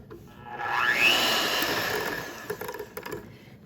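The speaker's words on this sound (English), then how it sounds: "whisk it until it develops a nice little peak at the end of the beaters" Electric hand mixer beaters whisking cream with powdered sugar and vanilla, a steady whirring drone that swells in pitch as it speeds up, then settles, ending with some clattering taps of the beaters against the bowl.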